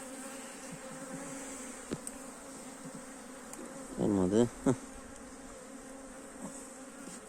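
Honeybees buzz in a dense, steady drone at an opened beehive during a hive inspection, and someone speaks briefly over the swarm partway through.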